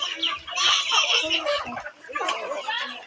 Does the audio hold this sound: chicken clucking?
yes